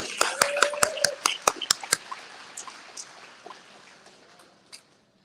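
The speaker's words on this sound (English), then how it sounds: "You guys give yourself a round of applause too." Sparse clapping from a small rally crowd, about a dozen sharp distinct claps in the first two seconds, then fading into scattered faint claps and low background murmur.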